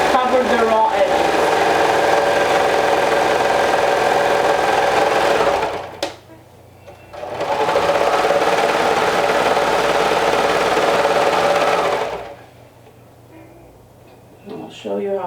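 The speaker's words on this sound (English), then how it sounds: "my serger right now it's just to cover the raw edge" A serger overlocking the raw edge of sewing fabric while making a skirt, two long, loud, close runs of rapid mechanical stitching separated by a pause, with light handling noise afterward.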